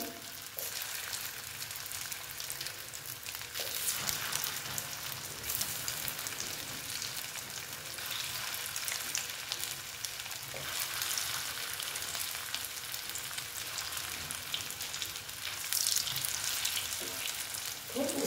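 Soya chunks for kofta curry fry in hot oil, a dense, continuous crackling sizzle with occasional soft stirring scrapes, heard up close and without talk.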